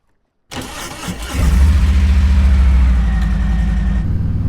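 A Harley-Davidson motorcycle engine starts after a moment of silence, catching and settling into a loud, steady, close idle rumble with a lumpy low-end pulse that continues to the end.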